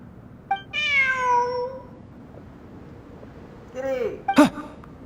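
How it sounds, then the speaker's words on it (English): A cat in a video game gives two loud, close meows a few seconds apart, the second more strained and wavering, with quiet background between. "Look! A cat!"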